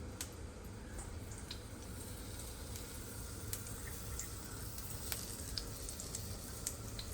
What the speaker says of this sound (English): And they're sizzling nice.